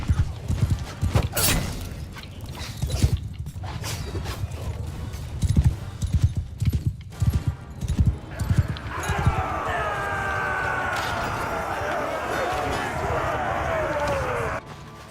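Galloping horses drum steadily through a Mount and Blade II: Bannerlord battle, hooves pounding close with occasional whinnies, then giving way to a sustained wash of crowd and combat noise in the later half.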